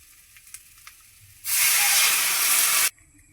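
Water hits sizzling masala with elephant foot yam in a vegetarian Bengali curry, setting off a sudden loud burst of hissing steam that lasts about a second and a half and then cuts off, after a few quiet clinks.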